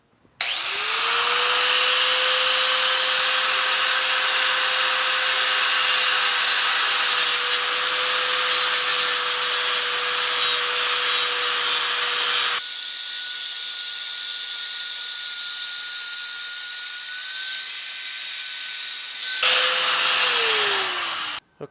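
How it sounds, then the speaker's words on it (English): A cutoff wheel slices through a wiper cowling insert on a GTO restomod, giving a loud, steady, high-pitched whine with airy hiss. The pitch drops partway through, then holds for a long continuous cut before winding down. "We'll go over and cut this with the cutoff wheel, just real carefully"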